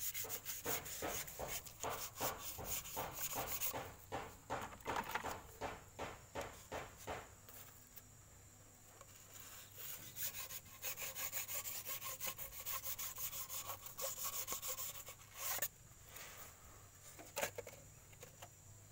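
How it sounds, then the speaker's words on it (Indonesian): A brake piston from a Suzuki Carry Futura is rubbed clean in rapid repeated back-and-forth strokes at close range. The scrubbing is steady at first, then becomes slower and sparser. "kalau sudah kita gosok ini tentunya dia sudah rata lagi, sudah enggak rembes lagi"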